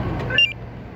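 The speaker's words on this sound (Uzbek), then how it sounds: "Quflaganda 4 ta eshikda avtomatik yopadi." Central locking on a Damas car fitted with a 905 alarm system locks all four doors, giving one brief, fairly near electronic beep or chirp over a steady low background hum.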